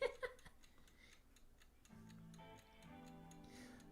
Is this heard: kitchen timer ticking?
yes